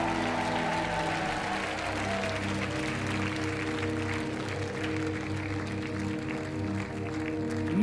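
Studio audience applause on the French game show Money Drop rolls on steadily beneath a bed of show music, sustained and moderately loud throughout.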